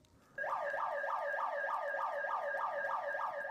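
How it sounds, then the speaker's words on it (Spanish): After a brief quiet moment, a neighbourhood security alarm siren in Chorrillos starts abruptly, repeating fast rising electronic whoops in a steady, loud cycle. "instalar una alarma de seguridad que suena cada vez que detectan algo extraño"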